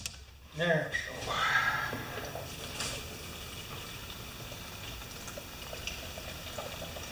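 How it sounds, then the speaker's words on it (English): Gasoline gurgles and trickles as it is poured out of a 20-inch Murray self-propelled lawn mower into a small container, a soft, close, continuous liquid flow after a brief louder splash at the start. "I've decided to empty some gas out of this guy"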